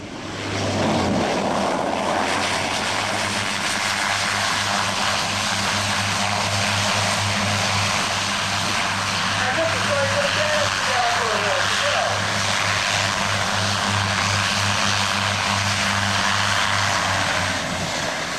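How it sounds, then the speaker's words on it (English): A Beech 1900D turboprop reverses its propellers and brakes hard after landing at an airshow display. A loud, sustained propeller roar with a low throb carries through, and a commentator talks over it. "Give an idea with maximum reverse, propellers going back into reverse pitch and full braking"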